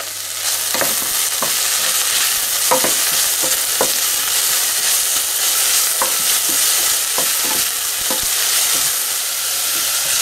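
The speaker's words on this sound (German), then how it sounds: "Und wenn unsere Zwiebeln dann einigermaßen angeschwitzt sind, geben wir dann unseren klein geschnittenen Mangold hinzu" Chopped chard sizzles with softened onions in a pot, a loud, dense, continuous hiss with intermittent stirring scrapes and clicks.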